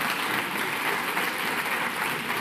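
A studio or theatre audience applauds in a dense, continuous wash of clapping that stays level throughout the short stretch, with no talk over it.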